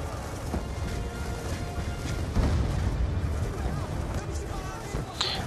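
In Black Ops II, a thrown mortar explodes in a low, rumbling boom partway through, set against ongoing game noise and background battle sounds. Muffled voices run underneath.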